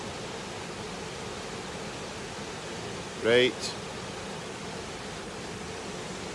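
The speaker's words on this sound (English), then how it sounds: "One last wee look at the waterfall before I go." Steady broadband rush of a waterfall on the River Clyde, moderately loud and unchanging throughout, with a brief spoken word and a short passing sound briefly rising above it midway.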